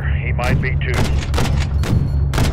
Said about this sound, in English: RPG fire coming from the hangar.